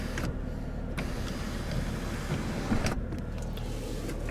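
The sunroof motor of a 2017 Chevrolet Camaro SS whirs quietly inside the cabin, a soft electric hum broken by two brief clicks as it starts and stops. No voices are heard.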